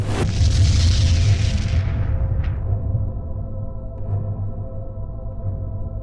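A documentary sound effect for a star exploding as a supernova: a sudden loud boom that swells into a long, deep roar, rumbling on and slowly fading, with no voices over it.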